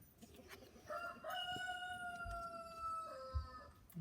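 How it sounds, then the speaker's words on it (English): A rooster crows in one long, drawn-out call, close and loud over a low outdoor background, with a second fainter crow beginning near the end. "there's my rooster Derek."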